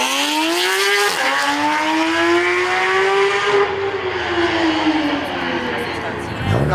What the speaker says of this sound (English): We have the UV purple Porsche GT3 RS leaving the show.